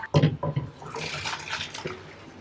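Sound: pouring water off blanched noodles into a strainer

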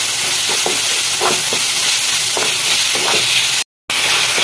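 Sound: capsicum sautéing and sizzling in a pan

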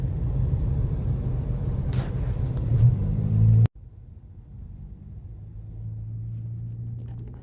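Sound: Chennai road traffic

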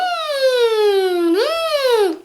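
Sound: beatbox siren imitation

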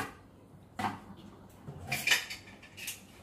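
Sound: dishes and plates being loaded into a dishwasher

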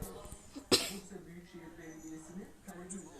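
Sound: cough

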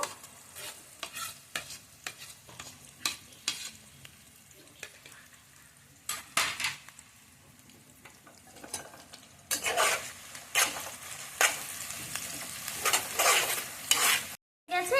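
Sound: frying onions, chopped garlic and ginger paste in a pan

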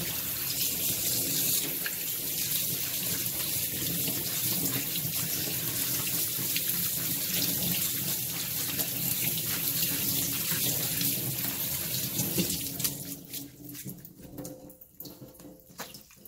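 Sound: tap water running while rinsing cooked tapioca pearls

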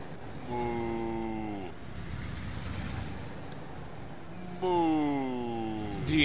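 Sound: cattle mooing in a video game

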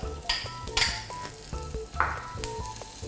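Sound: lemongrass and galangal dry-roasting in a pan

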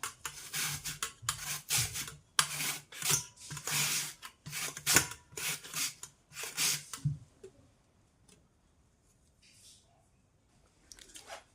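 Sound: grating raw potatoes

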